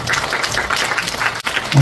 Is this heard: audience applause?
yes